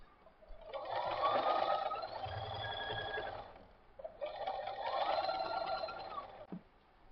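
A sewing machine stitches through quilt fabric in two sustained whirring bursts with a brief pause between, close-up and with no speech.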